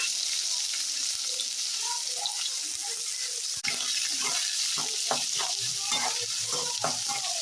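Chopped big onions and dried red chillies frying in a pan for a Tamil keerai poriyal, a steady hiss with a sharp clatter midway, then stirring scrapes and crackles growing busier.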